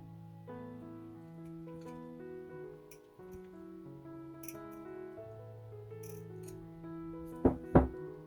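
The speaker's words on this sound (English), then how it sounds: "here I will cut the thread" Scissors cut beading thread on a seed-bead ring with two quick, crisp snips near the end, heard over soft background music.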